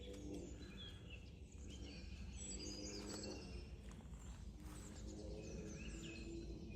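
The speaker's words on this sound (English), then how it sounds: "Birds are in full song today." Birds sing outdoors during a countryside walk, with faint, scattered chirps and tweets over a soft, steady background.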